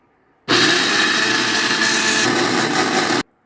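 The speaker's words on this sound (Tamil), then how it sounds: "இப்போ நம்ம அரைச்சி எடுத்துக்கலாம்." Electric juicer grinding pomegranate seeds, a loud steady motor whir that starts abruptly, holds evenly for about three seconds and cuts off sharply, with no voices.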